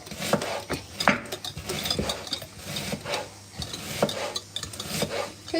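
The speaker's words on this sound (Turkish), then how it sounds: "Çekil bakayım biraz da ben karıştırayım" Chocolate cake batter being stirred in a bowl, a steady run of scraping and knocking spoon strokes against the sides, close and fairly loud, with no talking.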